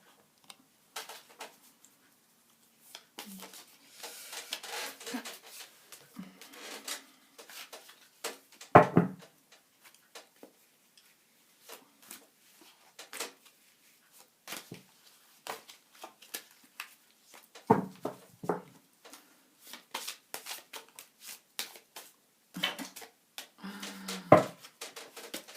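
Tarot cards shuffled by hand during a reading, giving soft repeated riffling clicks and slaps in irregular bursts, close and fairly quiet, with no talking.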